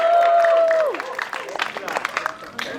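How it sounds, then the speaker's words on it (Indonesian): At a film press conference, a sustained tone fades out and is followed by scattered audience clapping and some crowd noise, while voices talk in the room. "Beri tepuk tangan yang meriah buat Eddie Kemon"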